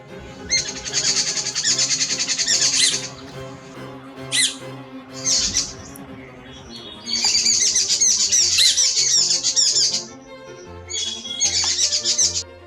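Loud, harsh chattering calls of jungle babblers in repeated bursts, several birds squawking together with short pauses between outbursts.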